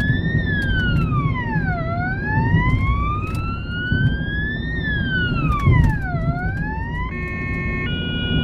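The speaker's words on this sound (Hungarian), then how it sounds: "Igazi német mentőautó hang." A German ambulance siren wails loudly and continuously, sweeping up and down in slow rising and falling glides before switching to a steady two-tone pattern near the end, with engine rumble underneath.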